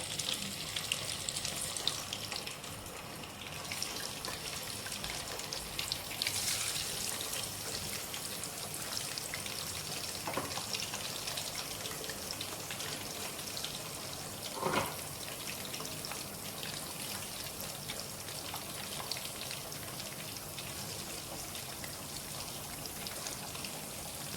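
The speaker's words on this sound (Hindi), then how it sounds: "चिकन हम अपना फ्राई कर रहे हैं।" Chicken pieces frying steadily in a pan for a roast dish, a dense continuous sizzle and crackle with a few louder pops, holding at an even level throughout with no talking.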